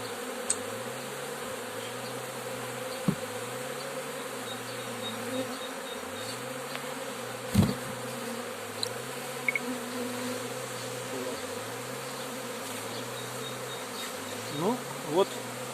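A honeybee swarm being taken from an apple tree gives a constant droning, wavering buzz, fairly close and steady throughout, with a few faint knocks and rustles.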